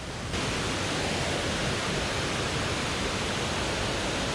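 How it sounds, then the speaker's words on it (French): A waterfall in Luang Prabang, Laos, heard from its hidden side, pours as a dense, steady roar of rushing water, close and continuous with no other sounds. "La face cachée de la cascade."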